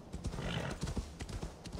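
A horse's hooves clip-clopping in the video game Assassin's Creed Valhalla, a quick uneven run of hoofbeats at moderate volume over a faint background wash.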